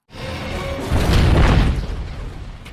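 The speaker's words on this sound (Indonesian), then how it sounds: "Rhino pun tak sengaja mengenai tabung gas hingga meledak." A gas tank blowing up in the animated film Bolt lands as a loud, close boom that swells into a sustained roaring blast and slowly tails off, with no voices over it.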